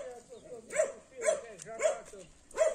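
A dog barking nearby in a garden setting, four or five evenly spaced barks that are loud and clear.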